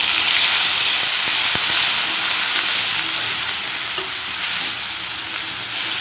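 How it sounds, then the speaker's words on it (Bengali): Whole cumin seeds, onion and garlic fry in hot oil in a home kitchen, giving a steady, even sizzle with a few faint ticks and pops, close by and uninterrupted by speech. "গোটা জিরে একটু ফোড়ন দিলাম, দিয়ে এবার পেঁয়াজ রসুনটা দিয়ে দেবো।"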